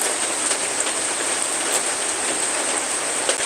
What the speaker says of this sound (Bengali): এতখানি বৃষ্টি যে কি পানির অবস্থা পুরো এলাকা পানিতে থই করছে